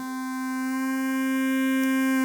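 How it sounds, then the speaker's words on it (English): A pure, steady electronic tone drones with bright overtones, gradually swelling louder as it sustains without a break. "It's a Boss DS1 distortion that I heavily modded. And it will oscillate."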